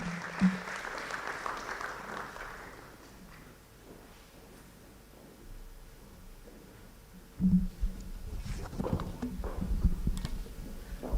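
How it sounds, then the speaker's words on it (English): Applause from the audience at a university public lecture, a burst of clapping early that fades, then a quieter stretch before thumps and renewed clapping and crowd noise rise toward the end. "Another round of applause will do."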